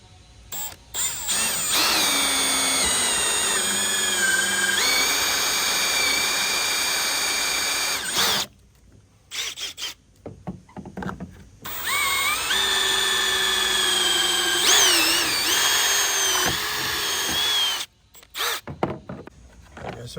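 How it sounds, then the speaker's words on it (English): A power drill drills a hole, whining steadily for several seconds, stopping amid clattering, then running again in a long second burst, loud and close, during a performance chip install on a 1999-2003 7.3 Powerstroke truck. "So we'll drill a hole kind of like this area right here."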